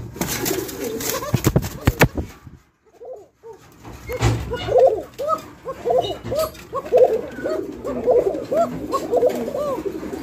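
A Coca fancy pigeon coos repeatedly in soft, rolling phrases, close by, after a brief burst of clatter and a moment of near silence.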